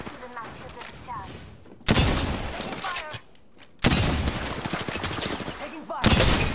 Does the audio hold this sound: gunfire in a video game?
yes